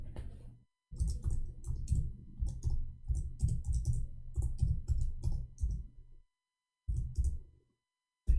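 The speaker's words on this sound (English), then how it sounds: "I'm typing in English." Typing on a computer keyboard: close, quiet bursts of rapid key clicks in uneven runs, broken by short pauses.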